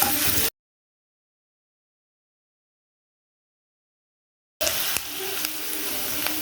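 Onions with a little sugar sauté in a pan, a steady bright sizzle that cuts out briefly into silence and then resumes, close and even, no talking.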